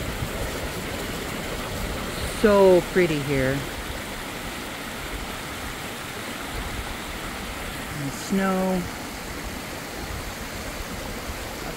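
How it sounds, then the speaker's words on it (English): A mountain stream fed by snowmelt on the Pacific Crest Trail near Crater Lake rushes in a steady, broad wash, with a person speaking briefly twice over the flowing water. "And this is where we got to get water."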